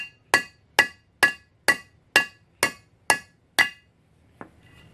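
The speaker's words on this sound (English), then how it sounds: "thread it on there a little bit, and just hit it with a hammer." A hammer striking a lug nut threaded onto a wheel stud on a 1966 Mustang, eight sharp metallic clanks at an even, quick rhythm, close and alone, then one lighter tap.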